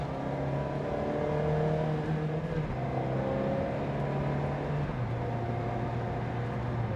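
A 2004 Ferrari 360 Challenge Stradale engine pulls hard under acceleration, its steady droning note stepping down at each gear shift, heard from inside the cabin with no talking.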